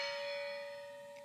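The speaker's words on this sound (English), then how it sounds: "Gong small 1." A small gong sample rings once with a clear, bell-like metallic tone, sustaining steadily and fading gently, with no voices.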